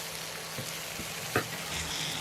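Prawns fry under a lid over a low flame, a dense, even sizzle and crackle with one brief clunk partway through, and no voices.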